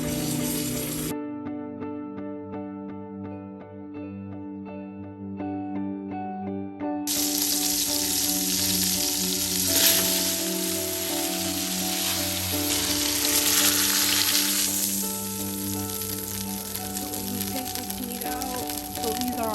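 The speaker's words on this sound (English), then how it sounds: "we just want to brown this on all sides" A large pot roast browning in a hot pan gives a loud continuous sizzle and frying hiss that swells and holds throughout, with some music and a voice speaking over parts of it.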